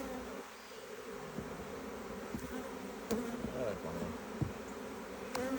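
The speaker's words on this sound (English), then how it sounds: "the bees are definitely telling me they don't appreciate their home being pulled apart" A dense swarm of honeybees buzzes steadily and close throughout an inspection of a Langstroth beehive, the drone rising slightly in intensity with occasional bumps and clicks of frames being handled.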